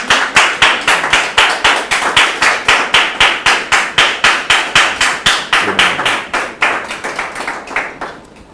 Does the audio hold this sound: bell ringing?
no